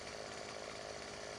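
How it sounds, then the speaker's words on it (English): A chainsaw felling trees in the video game Farming Simulator 17 gives off a steady, even, buzzing drone at moderate level with no talking. "I forgot you can't run with a chainsaw, so."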